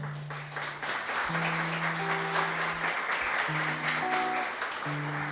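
Applause from the audience at a community tertulia as invited musicians are welcomed, a steady wash of clapping with sustained musical tones ringing over it for about five seconds.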